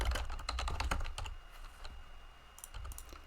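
Rapid clicking keystrokes on a computer keyboard while a calculated field is entered in Tableau, dense and close for the first second and a half, then sparser scattered taps over a low background hum.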